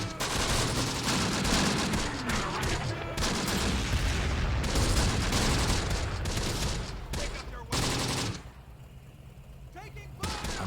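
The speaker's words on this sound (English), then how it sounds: "Hoping that I land some really nice hits with the artillery." Artillery barrages and explosions in the WWII tactics game Close Combat: The Bloody First, a dense, loud rumble of blasts and gunfire layered together, with someone talking over it before a short lull and a fresh burst.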